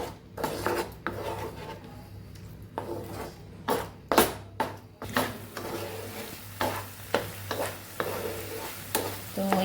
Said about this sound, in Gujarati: ધીમા ગેસ ઉપર આપણે સરસ સાતડી લઈશું